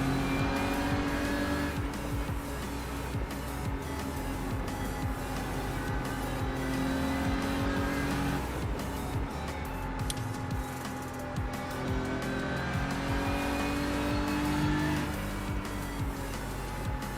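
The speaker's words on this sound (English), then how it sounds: "Now I'm driving at half throttle and still catching them." A race car at half throttle in a racing video game, testing for the Bathurst 12 Hour, drones steadily throughout with a continuous engine note, light tire noise and no pauses or speech.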